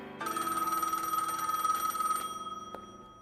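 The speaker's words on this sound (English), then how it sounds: "The phone rings" An old-style telephone bell rings in one loud, sustained metallic trill lasting about two seconds, then cuts off with a brief clack, heard alone with no talking.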